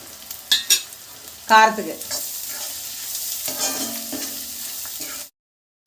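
Vegetables stir-frying with chili powder, curry masala powder, pepper and a little salt, a bright sizzle with scraping stirs in bursts, a brief spoken word near the start, then the sound cuts off abruptly.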